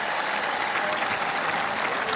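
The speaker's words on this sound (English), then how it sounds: "let's give them a round of applause" Dense crowd applause at the New York Knicks championship parade, a loud, continuous wash of many hands clapping without a break.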